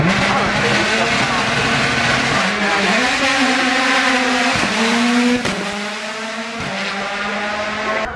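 McLaren Solus GT race car accelerating hard up the hill course at the Goodwood Festival of Speed, a loud high-pitched engine note climbing through rapid gear changes, close and dominant.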